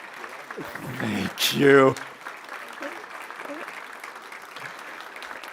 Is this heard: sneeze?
no